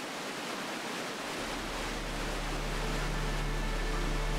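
Water pours steadily over a river weir at Barrowford, a dense, continuous rushing roar that holds at an even, loud level throughout, with no voices.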